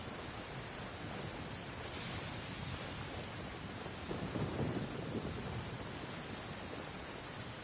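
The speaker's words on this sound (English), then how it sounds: "Marching in the rain conceals the sound of our arrival, but is also a test of stamina." Steady, dense rain pours throughout a stormy scene in the video game Genshin Impact, with a low rumble of thunder swelling in the middle.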